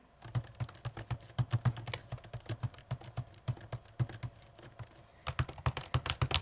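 Rapid clacky keystrokes on a 16-inch Apple MacBook Pro laptop keyboard, close and crisp, typed in uneven bursts with a brief lull before a faster flurry at the end.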